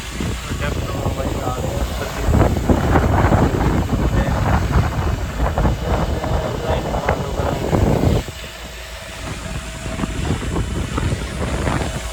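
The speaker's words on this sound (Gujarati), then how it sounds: "પવન બહુ છે" Strong wind buffets the microphone in loud, rumbling gusts, briefly easing near the end before picking up again; a voice speaks faintly underneath.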